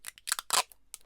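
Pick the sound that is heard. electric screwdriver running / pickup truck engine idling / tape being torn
tape being torn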